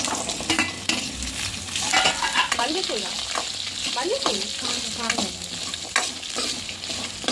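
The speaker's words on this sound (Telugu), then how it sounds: "ఈ విధంగా తాలింపు వేసుకుంటున్నామండి" Tempering seeds, chana dal and curry leaves sputter and crackle in hot oil as a spoon scrapes and stirs the pan, with irregular clinks over a steady sizzle during cooking of kabuli chana.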